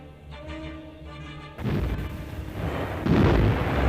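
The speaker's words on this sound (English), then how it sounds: "The guns continued to pound the defenceless Kent coast." Wartime artillery guns pounding the Kent coast around Dover: deep, rumbling booms that swell into a continuous heavy roar, loud and dense, following a brief stretch of low background music.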